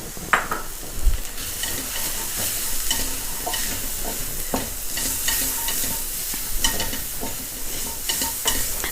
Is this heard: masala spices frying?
yes